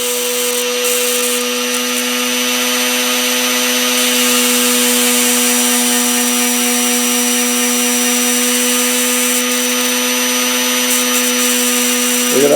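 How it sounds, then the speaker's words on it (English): Electric current arcs from the end of a bare wire, drawn out up to half an inch, making a loud, continuous, close buzzing hum with a harsh crackling edge throughout. "look at that spark I'm getting in the end of the wire"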